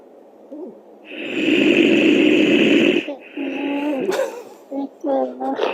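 A man snores loudly on a live stream, with long, rough, droning breaths. Several shorter vocal sounds follow, and a voice may be talking over them.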